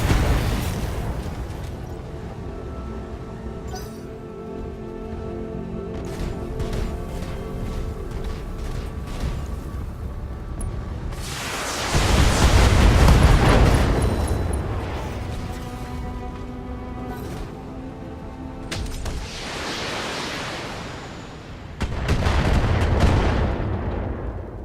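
Battletech mech weapons fire at a target in a video game, giving heavy booming volleys and rumbling blasts, loud and spaced out, over a low mechanical hum.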